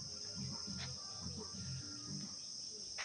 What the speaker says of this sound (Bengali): শুধু ঝিঝি পোকার আওয়াজ